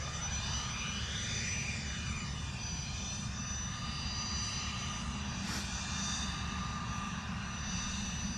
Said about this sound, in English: Ryanair 737 coming in from Berlin